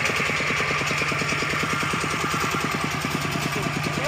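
A motorcycle engine runs steadily at close range with a fast, even, thumping pulse and a constant droning hum the whole way through, and no voices are heard.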